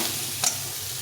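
Chili powder and spices frying in oil in a pan, a brief steady sizzle with one quick stir scrape in the middle, close and without speech.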